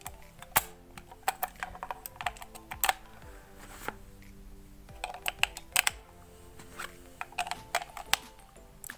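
Small button cells are pressed into the battery compartment of a digital LCD talking LED projection alarm clock. The close sound is a scattered series of sharp plastic clicks and taps with no talking.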